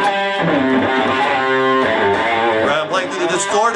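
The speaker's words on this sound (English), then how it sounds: "Distorted tone." Electric guitar with a heavily distorted tone from a Boss ME-8 multi-effects unit, loud sustained chords and riffs played continuously with no voices.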